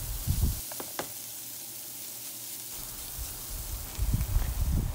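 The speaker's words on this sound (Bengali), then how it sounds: "তারপর একটু ভেজে নেব।" Boiled, pre-marinated fish fries in a pan with spiced bottle-gourd masala, giving soft sizzling with bursts of stirring and scraping near the start and end.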